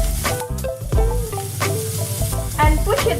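A tuna steak sears on a griddle pan with a loud, close sizzle and bursts of crackling, layered over a steady hum and some clatter. No one speaks.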